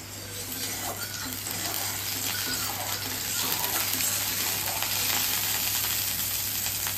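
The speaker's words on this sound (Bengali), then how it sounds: "এখন দেখো ডিম ভাজাটা করে নেব।" Two eggs frying together in a home kitchen pan give a steady, close sizzle with light scraping and stirring throughout and no talking.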